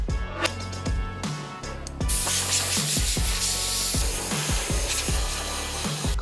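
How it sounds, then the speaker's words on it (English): An air compressor blowing air through a used Air Jordan 3 sneaker, a loud broadband hiss that starts abruptly and runs continuously, with a rhythmic knocking beneath it. "Compressor worked great."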